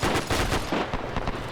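BAR automatic rifle fire in a WW2 PvP video game: rapid, loud bursts of shots in quick succession, close and punchy, with no voices over them.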